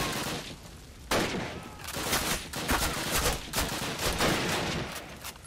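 Dense gunfire in a video game, with repeated bursts and single shots running close and loud throughout.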